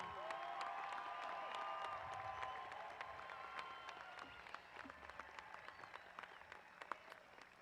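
A large commencement crowd applauds the 2020 and 2021 master's degree graduates of West Texas A&M University, with dense, sustained clapping that slowly thins toward the end, a few sharp individual claps standing out.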